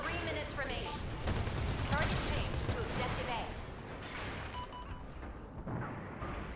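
Gunfire from the Pale Rider's gun in Gundam Evolution comes as rapid bursts of shots with booming impacts, moderately loud beneath someone talking over them.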